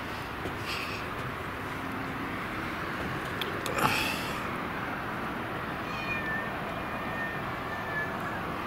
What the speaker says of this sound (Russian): А вот эта кошка, Мурка, пришла к нам в цех.